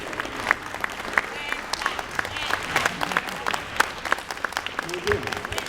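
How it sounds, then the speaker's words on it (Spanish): A standing audience at a Spiritism association anniversary gathering in Guatemala claps steadily, a moderately near mass of applause with sharper individual claps, while a voice talks over it. "le brindamos un aplauso a estas hermanitas que están trabajando"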